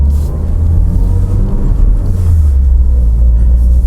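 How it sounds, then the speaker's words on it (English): A Toyota Altezza with a manual transmission idles and pulls away slowly on its first test drive while still cold. Its exhaust gives a low, steady, fairly subdued rumble throughout, with no one talking. "It's not super loud, the exhaust."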